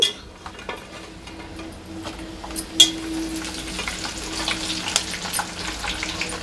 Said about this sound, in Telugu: ఇవి వేగుతుండగానే చిన్నుల్లిపాయ రెబ్బలు, కరివేపాకు వేసుకుందాం